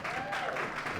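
An audience applauds at a stand-up comedy show in a Toronto comedy bar, a short, dense burst of clapping at moderate volume.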